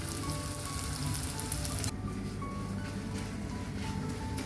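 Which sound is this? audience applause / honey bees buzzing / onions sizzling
onions sizzling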